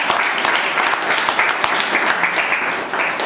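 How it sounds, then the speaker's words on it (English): An audience breaks into a dense, sustained round of applause for the President at a formal session, steady and fairly loud throughout with no pauses. "A huge round of applause for the President."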